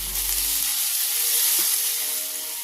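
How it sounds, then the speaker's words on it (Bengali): Chopped tomato sizzling in hot oil in a pan while being stirred, a continuous close, bright hiss with a soft low thud of the spoon partway through and no talking. "কেটে রাখা টমেটোটা দিয়ে দিলাম, দিয়ে নাড়াচাড়া করে ভেজে নেব যতক্ষণ না টমেটোটা গলে যায়।"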